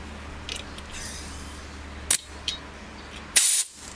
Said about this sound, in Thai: เติมแก๊สนะครับ